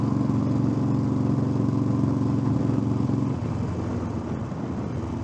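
A motorcycle rides along the road, its engine droning steadily with a low throbbing tone that shifts slightly partway through, close and continuous with wind noise and no talk.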